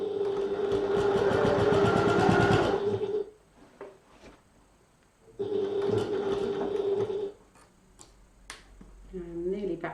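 A sewing machine top-stitches through several layers of fabric on a strap, running in two rapid whirring bursts with a quiet pause between them and light handling noises afterward.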